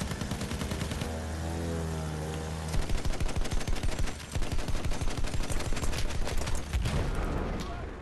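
Machine gun fire at planes in Battlefield 1. A droning engine hum comes first, then loud, rapid, sustained bursts of automatic fire with a short break partway through, all without speech.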